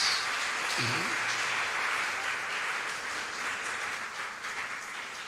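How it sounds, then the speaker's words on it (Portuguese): A church congregation applauds during a Holy Spirit worship service, with a broad wash of clapping that holds steady and slowly fades, heard at moderate distance with no talk over it. "dê um aplauso bem forte ao Messias"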